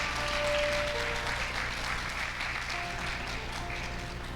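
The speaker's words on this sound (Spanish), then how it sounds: "Denle un aplauso a Cristo." A church congregation applauds for Christ during a sermon. Dense, sustained clapping fills the space over faint steady tones that sound like sustained music in the background.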